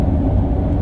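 A road technician's service vehicle driving to a customer's location, a steady low engine and road rumble heard from inside the cab, constant and fairly loud, with no voices.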